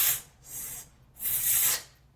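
Uneven, broken exhale of breath coming in three irregular hissing puffs of differing length and strength, close and fairly soft, with short gaps between them.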